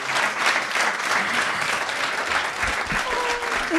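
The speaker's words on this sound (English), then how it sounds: "let's give a big round of applause to Eric Sanderson" Steady, full applause from a lecture audience after a public talk on the indigenous landscape of New York City, sustained clapping throughout with faint voices mixed in.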